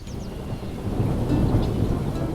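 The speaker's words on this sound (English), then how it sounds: "As this early May storm rolls in" An early May thunderstorm rolls in over Erie Marsh, a Great Lakes coastal wetland: loud, steady rumbling thunder swells under the hiss of rain, with a few faint bird calls at the edges.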